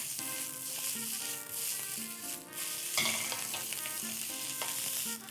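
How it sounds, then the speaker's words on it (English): Salted vegetables sizzle and crackle steadily in a hot frying pan, close and continuous, with occasional stirring scrapes; no one speaks. "the salt will pull out all the moisture from that vegetables, which will make it sizzle even more"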